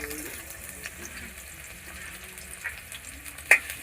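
Onions hit hot oil in a kadai and crackle in a steady close sizzle, with a stirring scrape and a sharp clink near the end.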